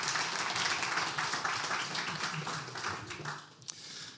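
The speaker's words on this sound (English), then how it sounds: "Give another round of applause, please." Steady applause from an audience fills the whole stretch, dense clapping that gradually thins toward the end.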